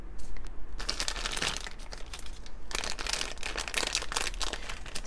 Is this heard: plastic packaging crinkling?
yes